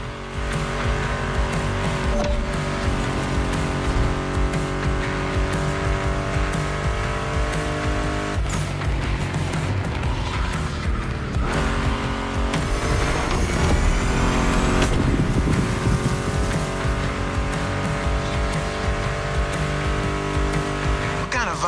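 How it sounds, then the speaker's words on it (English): A Ford Mustang GT muscle car roars through a race in The Crew Motorfest video game, its engine revving loudly and continuously, with tire squeal and shifts in pitch and a few faint voices mixed in. "Meshes well with the sound of the engines"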